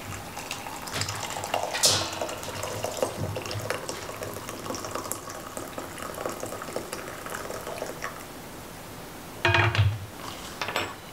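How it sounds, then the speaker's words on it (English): Hot water pouring from a kettle or tap into a mug in a home kitchen, a continuous rushing fill that rises gradually, with brief clinks of the mug near the end. "I'm just gonna fill it up with some hot water."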